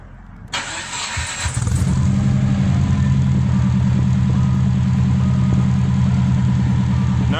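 A Subaru STI engine cranks and catches, then settles into a loud, steady, deep exhaust rumble at idle, close by and unbroken.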